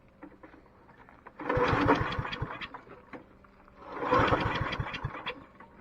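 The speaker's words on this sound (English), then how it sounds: "I really want to see this thing start on its own without the electric start." A cheap snowblower's small engine being pull-started without its electric start, two loud bursts of sputtering and chugging that each die away, with quiet pauses between attempts.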